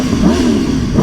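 An Aprilia Tuono V4 1100 Factory motorcycle engine revs loudly and close by, a steady throaty drone with a slight rise and fall in pitch over one second.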